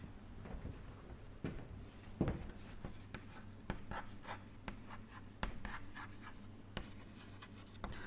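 Chalk or a marker writes on a board during a lecture on pressure-driven Hagen-Poiseuille flow. Faint, steady scratching is punctuated by sharp little taps as strokes start and end.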